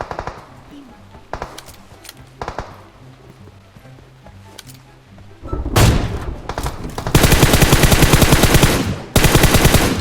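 Gunfire rattles in the mobile battle royale game PUBG Mobile: sparse distant shots and muffled thumps first, then loud, rapid automatic bursts in long sustained strings near the end, with someone talking during the quieter stretch.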